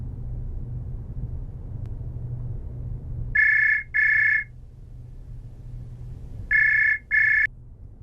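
A telephone ringing twice, each ring a pair of loud electronic trills over a low background hum, separated by a few seconds of quiet.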